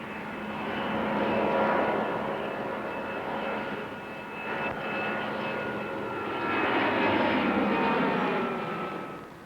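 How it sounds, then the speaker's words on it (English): An Airbus A310 jet airliner roars continuously as it lifts off on its first flight, a loud sustained engine rush that swells and fades slightly as it passes, with no voices. "The A310 lifts off into its element."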